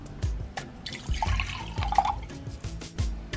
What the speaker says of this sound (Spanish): Paso el agua a un recipiente donde la voy a hervir.